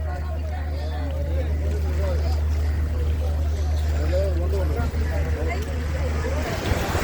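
A fishing boat's engine drones steadily nearby as it comes ashore at Vizhinjam, water sloshing, with people talking over it before the motor cuts off near the end.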